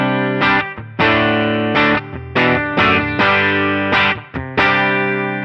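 An electric guitar played through a ToneX One amp capture rings out in distorted, sustained chords, about eight loud strums separated by short pauses, with no voice over it.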